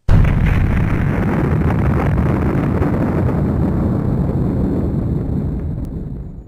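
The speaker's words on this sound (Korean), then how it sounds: "폭탄 투하 완료" A bomb explosion effect erupts abruptly at full strength into a dense, heavy roar that rumbles on for several seconds and slowly fades, loud and close with no talking.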